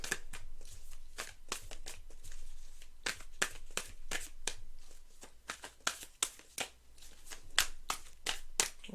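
Tarot cards shuffled by hand in a rapid, steady run of crisp riffling flicks and soft slaps, close and clear, continuing for several seconds.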